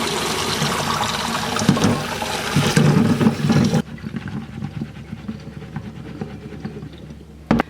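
Hot water from a pot of boiled potatoes pours out in a loud, rushing gush that drops to a quieter trickle partway through, ending with a brief clunk.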